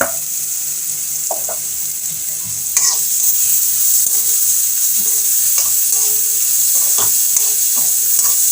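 Gooseberry (nellikai) rice sautéing in a pan, a loud steady sizzle with repeated spatula stirring and scraping knocks throughout, close and without speech.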